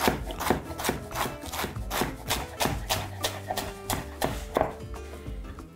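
A bunch of marjoram being chopped with a knife on a board gives close, even, repeated cutting taps throughout, with no voices.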